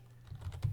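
A quick burst of a few computer keyboard keystrokes, close and fairly soft, over a low background hum.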